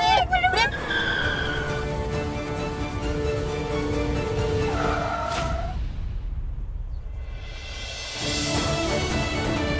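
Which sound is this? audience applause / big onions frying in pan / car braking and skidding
car braking and skidding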